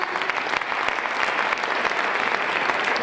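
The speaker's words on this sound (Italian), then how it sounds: "Grazie mille ragazzi, un applauso ancora." The crowd applauds the ski mountaineering race winners at an awards ceremony in Pinzolo. The clapping is dense and continuous for the whole stretch, with no speech over it.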